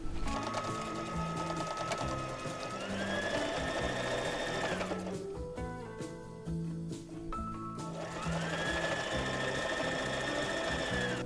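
A sewing machine stitches fabric for a patchwork bag, a close, rapid, even mechanical hum and rattle with a rising whine that runs, briefly slows or pauses midway, then resumes at full speed.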